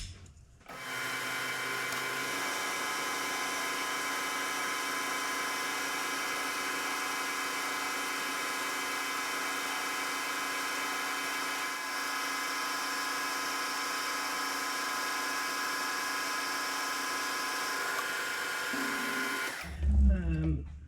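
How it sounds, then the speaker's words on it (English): Metal lathe boring out a lathe spider, a steady close machining whine and hum with a few tonal lines running evenly for about twenty seconds before stopping with a short clunk. "So I'm just going to keep boring this out."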